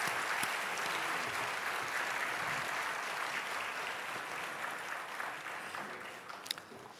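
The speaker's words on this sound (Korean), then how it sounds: "박수하겠습니다" An audience applauds at a Korean Presbyterian church worship gathering, a sustained wash of many hands clapping at moderate distance that slowly softens over several seconds, with no clear speech.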